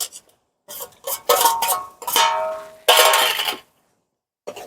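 Chopped greens, green garlic, turmeric, coriander-cumin powder and spices are mixed by hand in a bowl, heard as several separate bursts of rubbing and scraping with short silent gaps between them, close and clear.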